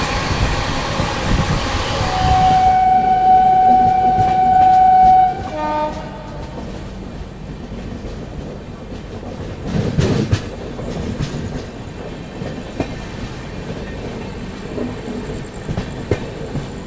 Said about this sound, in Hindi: गाड़ी बढ़िया रफ्तार में भाग रही है।